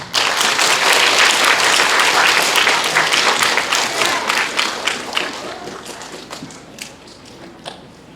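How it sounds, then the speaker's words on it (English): Students at a middle school assembly break into loud, dense applause that holds steady for several seconds, then thins into scattered claps as it fades toward the end. "Give a nice warm applause to Mr. Seifert."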